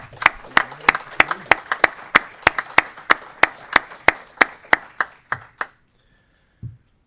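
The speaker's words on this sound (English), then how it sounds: "And you deserve a round of applause." Applause in a state Senate judiciary committee hearing room, a small group clapping in a fairly regular, distinct rhythm, close and clear, stopping abruptly with a brief quiet knock afterward.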